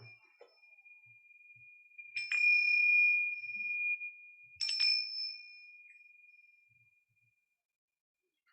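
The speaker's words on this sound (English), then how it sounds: "let us get started with the ringing of the bell" A small bell is struck twice at the opening of a Unitarian Universalist Sunday service, each clear bright ding ringing out and decaying slowly in a quiet room.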